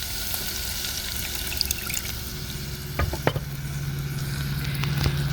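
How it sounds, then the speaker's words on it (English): Pineapple juice poured into a hot pan with green chilies and butter, a soft steady sizzle that swells partway through, with a few light clinks of a utensil against the pan. "I'm going to put a little bit of pineapple juice in there."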